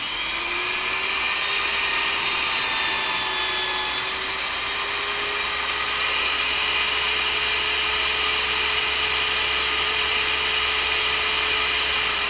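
A power saw running continuously while making long grain cuts in wood for a foundry pattern, a loud steady whine with a sustained tone, no breaks and no talk.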